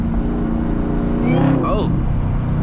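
A manual Camaro ZL1's supercharged engine rumbles steadily and loudly from inside the car during a drive, its low drone continuing throughout while a voice briefly speaks over it.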